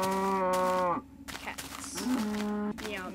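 Cow mooing in the video game Minecraft, two drawn-out, fairly loud low moos separated by a short pause, with faint game sounds in between.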